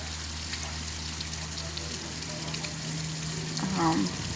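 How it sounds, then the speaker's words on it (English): Steady rain falls on an evening in Ohio, a continuous broadband patter and hiss holding at an even level throughout with a slight swell near the end and no talking. "But just wanted to show you guys this rain."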